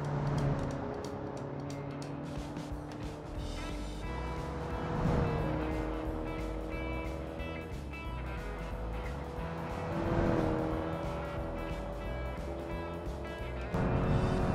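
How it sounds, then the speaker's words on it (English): A little yellow car with an 1100cc engine drives in the Automation racing game, its steady engine drone rising and falling through repeated gear changes, loud and continuous with no talk. "this yellow little car is a lot of fun, and I have the feeling that the 1100cc engine is just right for this one"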